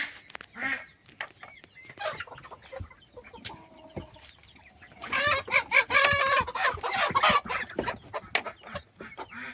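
Hens clucking and calling close by in a rural backyard poultry yard, with a busy cluster of overlapping squawks in the middle and scattered single clucks around it.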